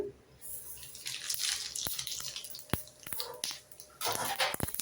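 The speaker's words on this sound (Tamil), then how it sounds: "கடுகு பொரிஞ்சதும்" Mustard seeds splutter in hot oil with urad dal for a South Indian mor kuzhambu: a busy, close crackle with scattered sharp pops, moderately quiet.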